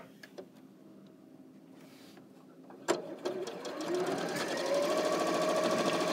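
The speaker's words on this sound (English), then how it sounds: "I'm just going to sew this together." A sewing machine stitches quilt blocks together, its motor whirring steadily and building to a continuous fast hum after a few light clicks and handling sounds.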